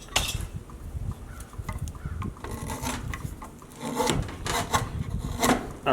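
The back of a wood carving is rubbed and rasped smooth by hand in short, uneven scraping strokes, close and moderately loud, with small pauses between passes.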